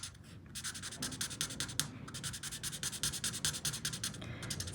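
Markers, slightly dried out, stroke across paper while colouring a Stampin' Up Cottage Rose stamped image, making quiet close rhythmic scratchy rubs in quick repeated bursts with no talking.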